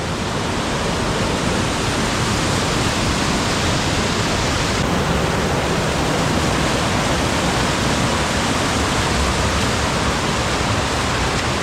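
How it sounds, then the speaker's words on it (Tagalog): A waterfall along a river in Cagayan Valley sends out a steady, loud, broadband roar that holds constant from start to finish with no other sounds. "Ay, gandang falls na naman."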